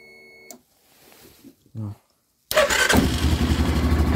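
A quad bike engine cranks and catches, then runs loudly and steadily at idle after a stretch of quieter sounds and a short vocal noise.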